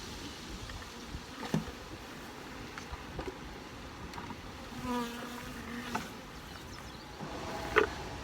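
Honey bees hum around an open hive box during a colony split, a soft, steady, low drone with occasional louder passes close by and faint knocks of equipment.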